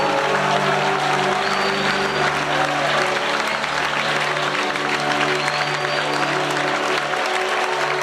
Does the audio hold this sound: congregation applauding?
yes